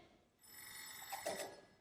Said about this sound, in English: the phone rang again